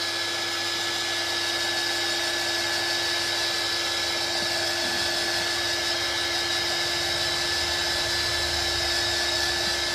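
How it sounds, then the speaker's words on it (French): A heat gun blows steadily to dry watercolour pencil artwork, a constant loud whooshing hiss with a fixed whine running unbroken and close throughout. "je vais le sécher. Donc je prends un pistolet"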